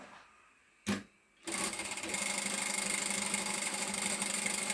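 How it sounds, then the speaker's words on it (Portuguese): A sewing machine runs a seam along the edge of fabric for a shoulder bag, starting after a brief knock and then whirring steadily and loudly without pause. "vamos passar uma costura à beirinha"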